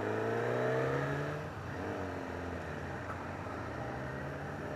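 A 2012 Kawasaki ZX-10R sport motorcycle launching, its engine pitch climbing through a rev before easing into a steady, smooth drone, close and fairly subdued against wind noise.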